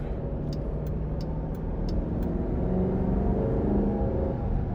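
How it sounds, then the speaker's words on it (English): A 2023 Dodge Durango R/T Blacktop with a 5.7-liter V8, heard from inside the cabin while driving on the road: a steady low engine and road drone, with a few faint ticks at the start. "let's go ahead and take this 2023 Durango RT Blacktop out on the road for a quick test drive"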